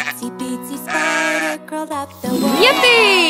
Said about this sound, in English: The sheep goes baa.